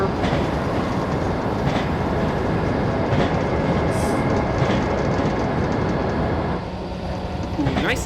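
A train in a simulator game rumbles along a rail line with steady clickety-clack and a dense roar that swells as it runs through a tunnel, loud and continuous, with the sound thinning slightly near the end.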